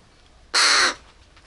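A young crow, a chick rescued from cats, gives one close, loud, harsh caw lasting under half a second, set against quiet surroundings.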